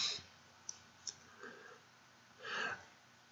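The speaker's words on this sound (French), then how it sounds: "Je clique dessus." Two sharp, quiet mouse clicks on the Moodle settings page, close together and isolated in a quiet room, with a soft breathy noise following.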